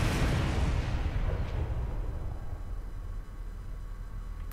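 An explosion in the space game Star Trek Online bursts loudly at the start, a broad rumbling blast that decays slowly into a lingering low roar over several seconds.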